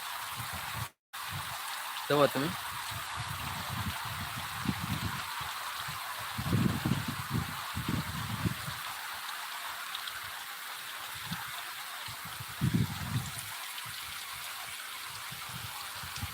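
Steady rain falls in a village during a live monsoon downpour, a continuous hiss throughout, with someone talking intermittently over it.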